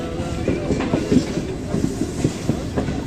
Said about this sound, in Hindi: अटक खुर्द रेलवे स्टेशन से स्लो स्पीड से पास कर रही है